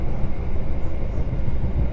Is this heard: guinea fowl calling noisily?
no